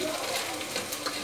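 Garlic frying in oil in a pan for kadhi, a steady close sizzle with faint stirring scrapes throughout, no voices.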